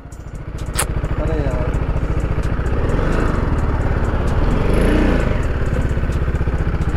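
A motorcycle engine idles with a steady, loud, rapid thumping pulse that runs for several seconds, with faint voices and street noise behind it.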